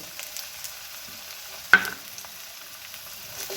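Ginger and chili pastes fry softly in a pan for green jackfruit kofta, a faint steady sizzle broken once by a sharp close clink midway.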